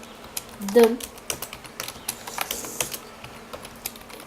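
Rapid clicks and taps from a computer keyboard during a game, steady and irregular, close by, with a short burst of speech early on.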